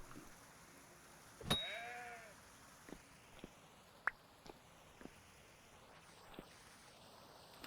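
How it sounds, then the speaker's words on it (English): A goat bleats once in the Vintage Story video game, a brief wavering cry over quiet ambient noise, followed by several faint clicks and taps. "Alright, it's you and me, goat."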